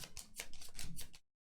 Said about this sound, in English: And then shuffle and draw 3.